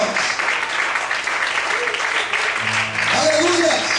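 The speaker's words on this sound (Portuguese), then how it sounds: "Mais forte as palmas." A church congregation claps more strongly in a continuous, dense wash of applause, with low sustained musical tones coming in toward the end.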